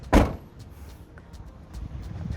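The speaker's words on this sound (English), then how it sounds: "For you to close the door, you just do that and relax, and it will close." A power sliding door on a Toyota Isis minivan shuts with a single loud, close thud near the start, followed by quiet, faint background noise.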